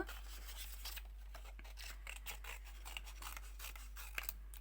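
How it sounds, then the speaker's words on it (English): Scissors snip repeatedly through paper while cutting around a paper circle for a paper rose, a quiet close series of short crisp cuts and rustles in an otherwise still room with a faint steady low hum. "a pair of scissors, and then we will cut around our circle in order to create our paper rose"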